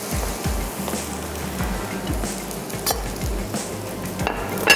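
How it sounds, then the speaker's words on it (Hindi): Aloo bun kabab patties sizzle in a pan over low heat, a continuous crackling fry with occasional scraping and stirring clinks, close and moderately loud, with no talking. "आँच को भी कर देते हैं स्लो, ताकि हल्की आंच पे पैटीज़ फ्राई हों।"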